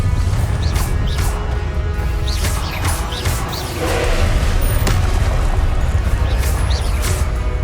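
Repeated Confringo blasting spell explosions in the Hogwarts Legacy video game, booming crashes and whooshing bursts over a continuous low rumble, one after another across the stretch.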